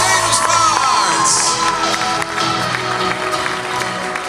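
A large crowd cheers, whoops and claps loudly and continuously at a sports awards evening in Hardenberg, with children shouting among the audience and the din staying steady throughout.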